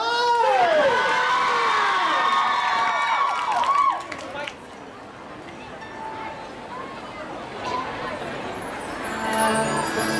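A concert audience at an Academy Fantasia 9 show claps and cheers for the performers, a loud wash of crowd noise with screams that drops to a lower murmur partway through.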